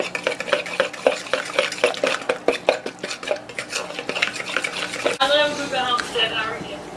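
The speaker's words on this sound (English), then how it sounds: "I'm going to mix that all together" Pizza topping ingredients are stirred together in a bowl, a quick run of scraping, clinking utensil strokes, followed by a voice in the background.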